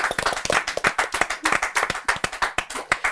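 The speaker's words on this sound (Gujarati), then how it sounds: "જોરદાર તાળીઓ મોનલ ગજ્જર" A small studio audience at a Gujarati podcast applauds film actress Monal Gajjar with loud, close, rhythmic claps, a quick run of sharp hand slaps that continues throughout without any talking.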